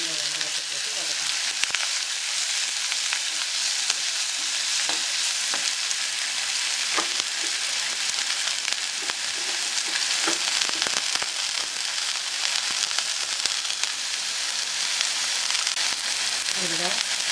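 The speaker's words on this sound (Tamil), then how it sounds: "இந்த வெங்காயத்தை போட்டு வதக்கணும்." Finely chopped onions sizzle steadily in a hot pan while cooking palak paneer, a continuous crackling hiss with occasional small pops and no talking.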